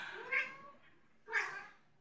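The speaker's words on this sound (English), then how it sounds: "Cats, man." A cat gives two separate meows about a second apart, fairly close and moderately quiet in an indoor room.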